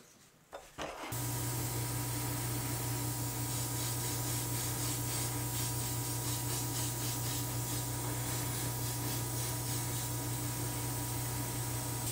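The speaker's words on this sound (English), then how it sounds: "So I'm going to give these a good Scotch-Brite." Parts being scuffed with a Scotch-Brite pad before painting, heard as a steady, loud abrasive rubbing hiss under a constant motor hum that runs almost without a break after a brief quiet start.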